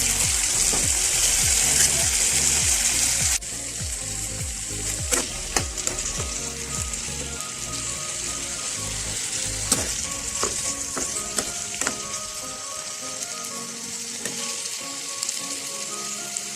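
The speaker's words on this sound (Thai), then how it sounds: "ผัดให้มันเป็นสุกนะคะ" Squash and pork stir-fry in a hot pan with oyster sauce and sugar, giving a loud, continuous sizzle that eases a little after a few seconds, broken by repeated scraping clicks of the spatula against the pan.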